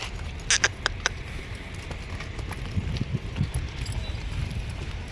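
Irregular hoof clops from cows stepping over hard ground, a few sharp close footfalls against a light windy background.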